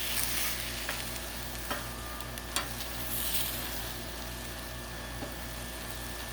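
Mahi mahi sizzling on a Blackstone griddle: a steady, close hiss of frying with occasional spatula taps and scrapes, continuous and even throughout.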